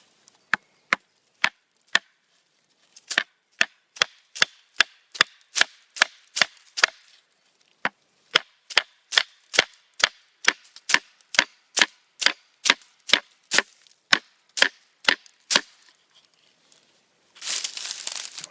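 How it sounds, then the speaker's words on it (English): A Bark River knife is batoned through green wood: a long, steady series of sharp, close wooden knocks with short pauses between strikes, ending in a brief burst of rustling. "You can see I baton the knife almost all the way through."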